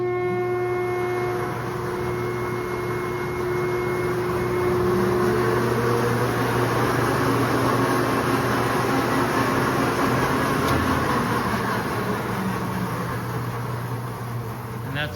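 A 350,000-pound Aronson welding positioner, machine 6332, rotates with a steady, loud industrial hum made of several sustained droning tones, continuous and unchanging throughout, with no distinct voices.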